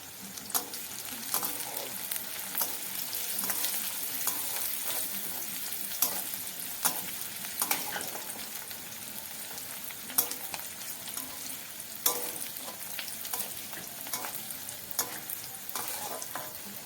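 Onions fry in a pan for chire polao, a steady soft sizzle with frequent scraping and clicking stir strokes throughout, close and fairly quiet.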